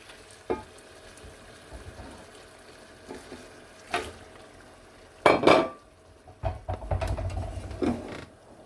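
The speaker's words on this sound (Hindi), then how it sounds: "थोड़ा सा चम्मच हिलाने के बाद अब हम टमाटर ऐड करेंगे।" Tomatoes tipped into a pan of potato bhujiya, with a few bursts of frying sizzle and scraping spoon-on-pan stirring between quieter stretches, close and fairly faint.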